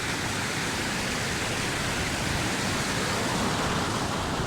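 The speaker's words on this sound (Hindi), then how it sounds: "ऊपर से बह रहा है पानी" Mountain water flows down from above in the Shandur Top area, a loud, steady broadband rush without pause, close by and alone.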